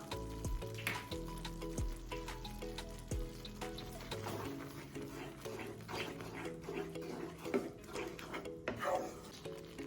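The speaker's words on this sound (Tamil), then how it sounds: "மசாலா நல்லா கொதிக்க ஆரம்பிச்சிருச்சு" Masala with garam masala for a dhaba-style methi leaf dish sizzles and bubbles in a hot pan over medium flame, with scraping and rubbing of a utensil, under low background music.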